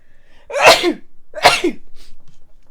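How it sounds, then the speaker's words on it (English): Two loud, close sneezes about a second apart, each a sharp breathy burst with a short voiced tail, in otherwise quiet surroundings. "I need to sneeze."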